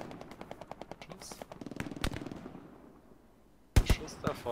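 Gunfire in the World War II shooter Hell Let Loose: rapid, evenly spaced automatic bursts followed by scattered single shots, a lull, then a loud close burst, with speech over parts of it.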